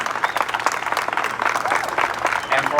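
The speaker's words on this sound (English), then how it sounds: "can we have a big round of applause for the entire Avenue Concept team" Audience applause at a public art mural unveiling in Providence, a dense burst of crowd clapping heard fairly close, steady for a few seconds with possible voices mixed in.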